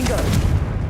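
Confringo blasting spell cast repeatedly in Hogwarts Legacy, a dense, continuous burst of booming, crackling blasts close up with shouted incantations over it.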